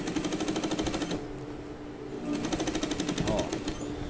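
Sewing machine running in reverse while stitching a trouser leg: rapid, rattling needle bursts in two runs separated by a brief pause, fairly close and clear.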